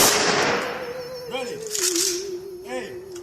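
A ceremonial rifle volley fired on command at a military honors service: sharp cracking reports over a sustained tone, with a couple of distinct shots standing out.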